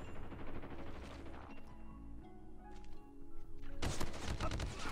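Gunfire in the mobile shooter Call of Duty Mobile, faint and muffled early on, then a louder burst of close shots near the end over a low game backdrop.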